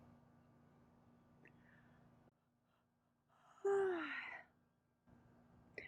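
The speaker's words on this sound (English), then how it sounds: "I yawn whenever energy shifts." A person gives one long, breathy yawn with a sliding, falling tone, louder than the faint steady room hum, during a jaw and TMJ relaxation exercise.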